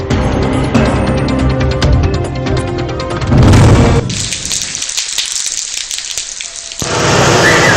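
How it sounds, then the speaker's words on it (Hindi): Heavy monsoon rain pours down in Lahore, a dense, loud hiss of falling water that drops away briefly midway before the downpour returns at full strength. "पंजाब के मुख्तलिफ शहरों में सावन की झड़ी"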